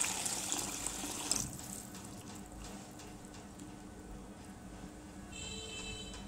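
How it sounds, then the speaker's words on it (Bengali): Water pours steadily from a tap or jug into a pot of vegetable khichuri for babies, a continuous close splashing wash that eases off slightly after the first second and carries on alone. "এখানে আমি পরিমাণ মতো পানি দিয়ে দিচ্ছি।"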